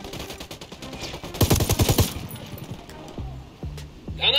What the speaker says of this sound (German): Dauerfeuer.